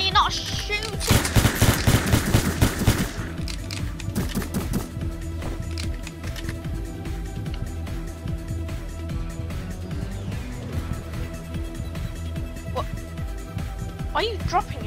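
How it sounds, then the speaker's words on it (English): Rapid automatic gunfire rattles in the video game Entry Point, loud and dense for several seconds and then dropping to scattered shots under ongoing talk. "why are you not shooting?"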